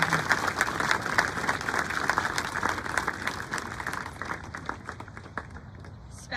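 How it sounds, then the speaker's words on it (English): Audience applause at a middle school graduation: a dense patter of many hands clapping at moderate distance, gradually thinning out toward the end. "Let's have another round of applause for the members of Word of Mouth"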